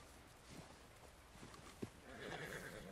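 A horse in Red Dead Redemption 2 whinnies over clip-clopping hooves, with a brief sharp snort or neigh near the middle and a louder, sustained whinny rising toward the end against steady game ambience.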